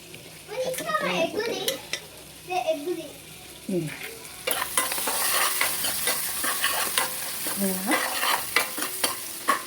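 Carrots fry in a pan for egg fried rice, a sizzle that swells in the second half with spatula scrapes and stirring clatter, while children's voices and chatter sound intermittently nearby.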